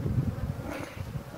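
Honeybees buzzing close by at a hive during beekeeping, a steady low droning hum for about a second and a half.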